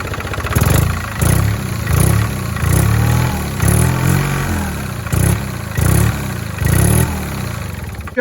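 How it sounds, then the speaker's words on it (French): Small Fox engine of a Lyra microcar revved in repeated short bursts, each rising blip falling back to a rough idle between them, close and loud. "On va donner quelques coups d'accélérateur pour que vous voyez"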